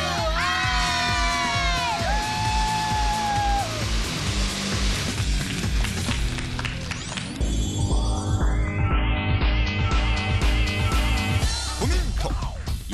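A group of elementary school children shouting a slogan together in unison, loud crowd yells and whoops over layered music and sweeping sound effects.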